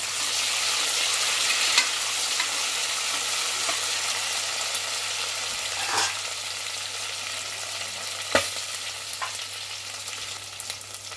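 Mint and curry leaves fry in hot oil for chicken pulao, with a strong, steady sizzle. A few clear clinks and scrapes come as a spoon stirs the pan.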